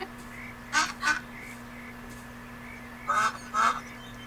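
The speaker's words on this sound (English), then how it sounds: "Hey, duckies! Let's go play with the duckies." Ducks in the video game Beyond Eyes give honking quacks in two pairs of short calls, moderately near, over a quiet ambient hum.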